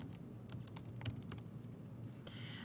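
Quick bursts of keystrokes on a computer keyboard, light and close, clattering in a short irregular run before a brief pause and a final few taps, with no voices.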